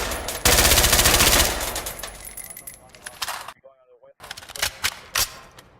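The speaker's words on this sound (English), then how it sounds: "people shooting guns" Loud gunfire in the tactical shooter game Ready or Not, with a rapid automatic burst followed by scattered sharper shots and clatter, a brief near-silent gap, then more bangs.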